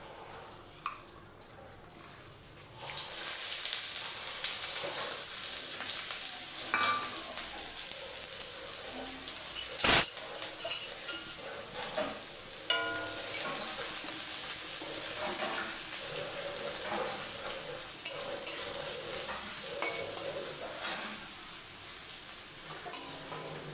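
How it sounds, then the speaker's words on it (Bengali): Onion fries in oil in a home kitchen, a quiet start giving way to a continuous crackling sizzle with occasional stirring clinks and a sharp knock near the middle. "এই তেলে পেঁয়াজটা ভেজে নেব।"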